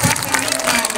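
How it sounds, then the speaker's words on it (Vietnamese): Applause from a school class honouring a teacher at a gratitude-themed activity, a steady, fairly loud patter of many clapping hands that fills the whole second. "Vỗ đây, vỗ tay đây."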